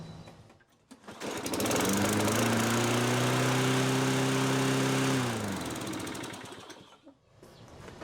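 A 2003 Toro 20017 walk-behind mower with a 195cc Tecumseh LEV 120 engine starts, revs high with a loud steady drone, then winds down, heard close up.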